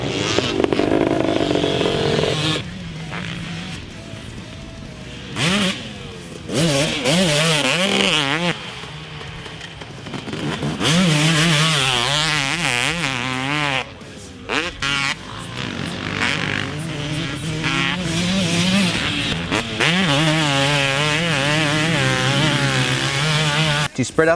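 A 2017 Husqvarna 250 dirt bike revs and rides with stock trim, its engine rising and falling in snappy, wavering pitch sweeps across shifts, loud and continuous, with a voice talking over parts of it.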